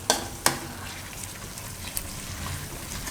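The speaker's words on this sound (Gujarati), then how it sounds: "મેથીને આમાં પાકવા દઉં. વચ્ચે વચ્ચે હલાવતા રહે." Fenugreek leaves (methi) cooking in a pan while being stirred, a soft steady sizzle with a couple of sharp scraping clicks near the start and occasional light taps, no voices.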